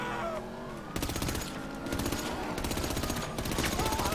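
Rapid gunfire aimed at car tires in the video game GTA, bursts of fast automatic shots in quick succession with short gaps between volleys, loud and close.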